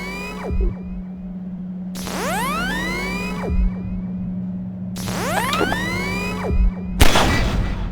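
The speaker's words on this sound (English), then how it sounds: "take out the firearm of your choice and shoot the device" Gunfire aimed at a device stuck to a Strider in Half-Life 2: Episode 2 cracks out as a few sharp shots spaced several seconds apart, set against a steady low hum and sweeping, swooping electronic tones.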